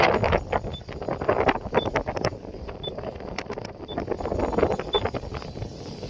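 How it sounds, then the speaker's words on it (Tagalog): Strong wind buffets the microphone with continuous roaring gusts and crackling bursts, steady throughout, with faint periodic beeps in the background. "napakalakas ng hangin dito"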